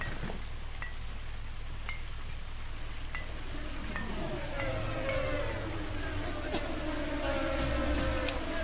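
Fireflies in the Supraland video game give off a soft, steady insect-like buzz with faint clinking chimes, continuous at low level under a game ambience, with no talk.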